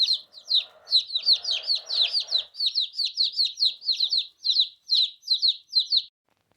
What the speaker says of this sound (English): Hope there are at least meat birds.